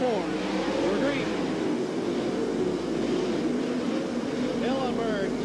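World of Outlaws sprint car engines roar at Watsonville Speedway during a feature race, a dense continuous drone with rising and falling pitch as cars accelerate off a turn, under an excited announcer's commentary.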